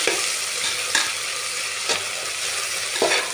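Sliced onions and green chillies fry in oil for a chicken tikka biryani, making a loud continuous hiss with a few soft stirring knocks and no talking.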